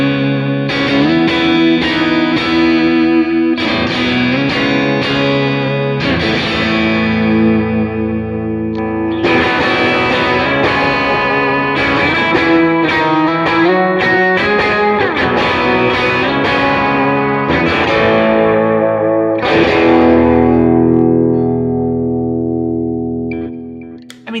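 Electric guitar played through a ToneX Vox amp model with boosted upper mids, loud, bright chiming chords and arpeggiated notes with light overdrive and effects, strummed phrases ringing out and fading at the end; no talking.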